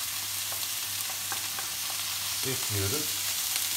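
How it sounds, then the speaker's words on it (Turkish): Chopped onions and boletus mushrooms sauté in a pan, giving a steady close sizzle and frying hiss, with a brief spoken word near the end. "soğanlarımız çok az pişince mantarları, doğramış olduğum borazan mantarlarını"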